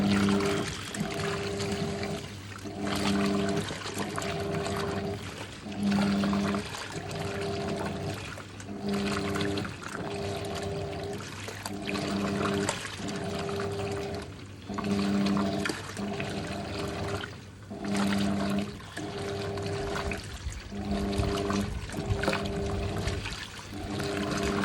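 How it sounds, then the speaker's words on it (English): A Hoover 1400 washing machine agitator thrashing a load through water on a permanent press cycle, with rhythmic sloshing surges repeating every second or so over a steady motor hum. "I love how this agitator grabs the whole load and sort of thrashes it through the water."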